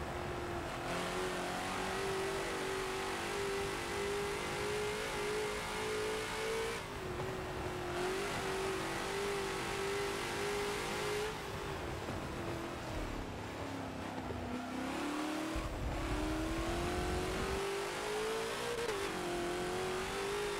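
TNT GT40 race car in Forza lapping the Nürburgring Nordschleife, its engine droning loud and close throughout, pitch rising under throttle, dipping as revs ease into turns and climbing again on exit.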